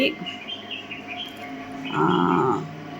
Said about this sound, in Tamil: பாருங்களேன் இவ்வளோ குருவி